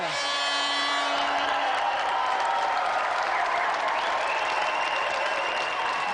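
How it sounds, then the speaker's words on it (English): A TV game show studio audience applauds loudly and continuously, a dense wash of clapping with faint cheers that holds steady throughout. "applause for Matthew Frary and our special guest, Ror"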